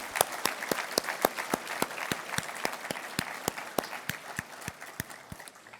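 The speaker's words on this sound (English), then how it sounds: "Let's give a big round of applause for Courtney and Scott." At a Virginia service excellence awards ceremony, an audience gives a round of applause: sharp, distinct claps in a fairly even rhythm, a smallish room's worth of hands, gradually tapering over about six seconds.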